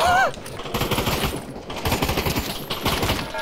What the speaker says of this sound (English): I'm getting shot from the left